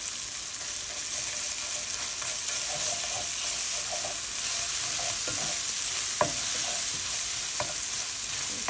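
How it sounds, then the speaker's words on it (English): Onions that have turned translucent sizzle steadily in a hot pan as tomato paste goes in and is stirred, with faint scraping and a couple of sharp utensil clicks over the constant frying hiss. "Once it looks like it's translucent, I'm going to add some tomato paste."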